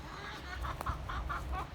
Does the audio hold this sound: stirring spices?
no